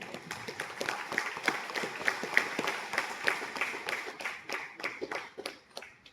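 An audience claps steadily in a hall, a dense patter of individual hand claps rising and falling over several seconds without speech.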